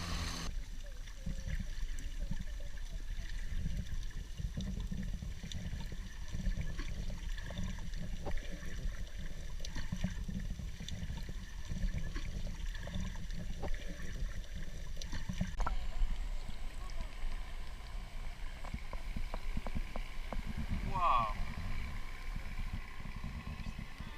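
A kayak paddles across the sea toward Monkey Beach in Thailand, with steady water swish and gurgle from close by under a constant low rumble. A faint distant engine drones, and no voices are heard.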